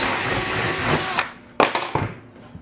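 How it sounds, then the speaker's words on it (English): A tool reams out a hole in the metal rib of a patio umbrella during a repair, giving a steady grinding whir for about a second that stops, followed by a few sharp clicks and knocks near the mic. "We'll go ahead and ream it out a little bit."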